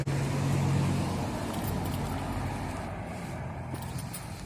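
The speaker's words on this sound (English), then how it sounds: "Got a bus." A bus goes by on a residential street, a broad steady roadway rumble with low engine tones strongest at the start and easing off as it moves past, with no talk.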